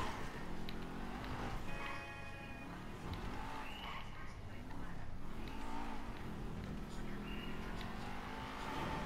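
A car engine revs and accelerates in GTA V while driving through city traffic, a continuous loud drone with rising and falling pitch sweeps; someone talks over parts of it.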